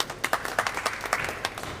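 Scattered hand clapping from a small crowd at a Sindhi film premiere, a quick burst of applause with sharp uneven claps that fades after a moment.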